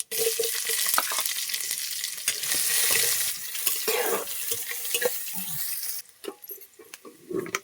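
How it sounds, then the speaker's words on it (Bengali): Whole cumin seeds and onion go into hot oil for a fish, taro and potato curry, giving a loud, dense sizzle for about six seconds before it drops to a softer crackle with a few stirring knocks. "গোটা জিরে দেবো, পেঁয়াজ দিয়ে দেবো"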